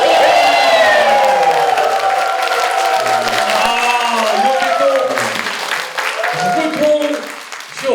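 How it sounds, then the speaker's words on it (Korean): A live studio audience at a laughter-therapy talk show erupts in loud applause and whooping cheers, a dense roar that gradually tapers, with shouting voices over it. "환호성의 박수로 오늘 마무리 짓도록 하겠습니다"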